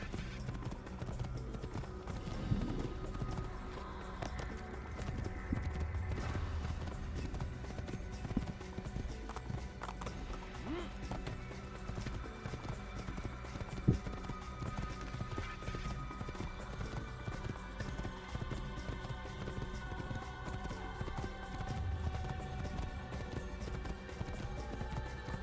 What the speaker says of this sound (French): Ok, on a un cheval banger.